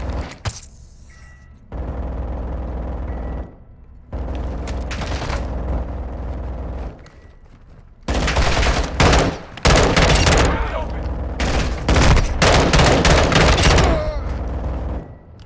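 Gunfire in a Call of Duty MW2 DMZ match: loud bursts of automatic fire and heavy shots come in separate volleys, with brief quiet gaps between them and a radio-style voice speaking over the fighting.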